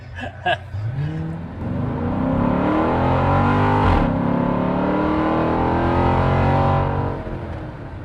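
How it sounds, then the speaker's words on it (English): A Chrysler 300 SRT8 engine revs up loudly and climbs through the gears, a rising roar that holds strong before easing off near the end. "This is where we pull away from the camera car"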